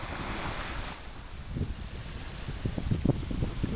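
Sea waves wash and break along the shore at Varna under gusting wind that buffets the microphone, the surf growing louder and more broken toward the end, with no voices.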